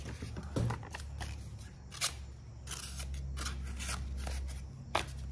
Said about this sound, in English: See, it's not cutting that great. Just more ripping it than anything.